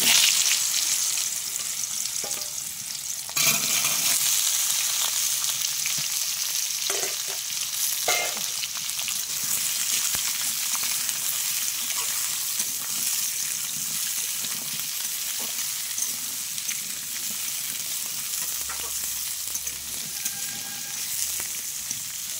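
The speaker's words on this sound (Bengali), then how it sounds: "সবজিগুলো আমি ভালো করে ভেজে নেব।" Vegetables frying in a pan with a bay leaf tempering for a Malabar spinach ghonto: a steady, loud, close sizzle running throughout, with occasional stirring scrapes and clatters.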